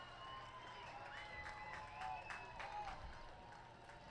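A baseball crowd at Cardines Field, Newport, cheers and claps from a distance as a strikeout chance builds, a steady roar of applause with whistles rising above it and a voice talking over the noise.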